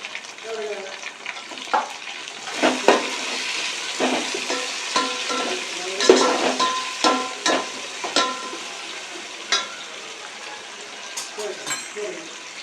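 Onions, green chillies and tomatoes frying with bay leaf and coriander for chicken biryani, giving a steady close sizzle broken by frequent sharp spoon scrapes and clatters against the pan.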